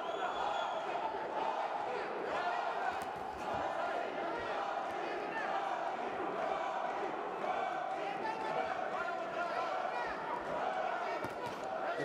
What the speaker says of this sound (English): The crowd shouting, Erdene, Erdene.